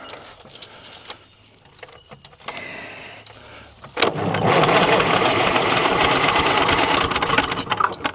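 A 1940s bulldozer's starter is engaged by hand across the terminals; faint clicks and scrapes give way at about four seconds to a loud, sustained mechanical cranking roar that continues steadily to the end.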